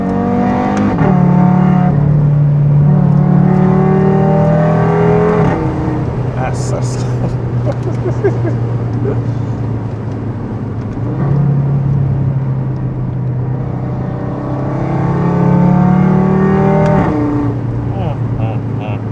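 An Audi RS3 with a modified exhaust revs repeatedly with a deep, throaty exhaust note, rising and falling in loud surges, with voices talking over it.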